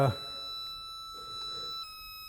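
A magneto timing buzzer on a 1958 airplane engine gives a steady electronic tone right after a short thump, holding evenly and then shifting pitch slightly near the end.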